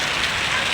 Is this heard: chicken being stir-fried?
no